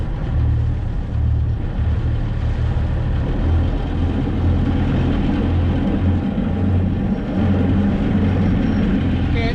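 A boat engine running in reverse at 2,000 RPM, a loud steady low rumble with a throbbing pulse that holds throughout, close and unbroken, with water wash in the background.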